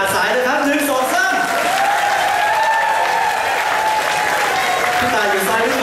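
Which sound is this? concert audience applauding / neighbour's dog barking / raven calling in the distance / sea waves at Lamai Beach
concert audience applauding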